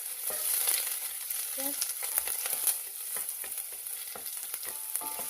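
Chopped onion sizzles steadily in a hot pan as it starts frying for a meat bones stew, a bright continuous crackle with light stirring clicks and a faint voice briefly in the background.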